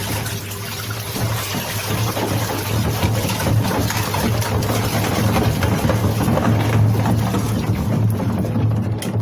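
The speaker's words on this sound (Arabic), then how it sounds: "الاطباق كده في الغسالة زي ما انتوا شايفين، وهبدأ اشغل الغسالة." A clothes washing machine running with a load of dishes inside, a steady loud churning and rattling drone with a low motor hum, continuous throughout.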